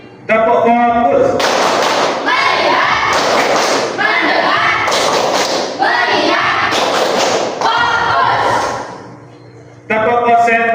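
Classroom of students doing a rhythmic clapping game, loud bursts of group claps in quick patterned sets alternating with brief pauses, under a teacher's spoken call.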